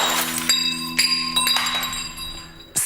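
Stemmed wine glasses balanced on posts strike and clink, several bright glassy hits ringing out in sequence over a quiet background, close and sharp.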